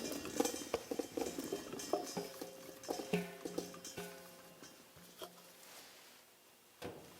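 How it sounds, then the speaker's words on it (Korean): Salted napa cabbage and radish tipped into a colander to drain, giving close clattering, patter and wet dripping sounds with a few sharp knocks, busiest at first and thinning to sparse drips. "이 물기를 제거하기 위해서 채반에다가 한번 걸러주도록 하겠습니다"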